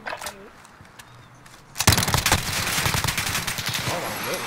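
Rapid automatic gunfire in a video game erupts abruptly after a quiet moment and continues as a dense, steady burst of shots, with brief talk before it begins.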